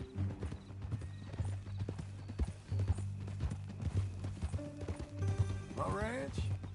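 Horse hooves clip-clop in the video game Red Dead Redemption 2, a steady trotting rhythm close by, with a short whinny near the end and talk running over it.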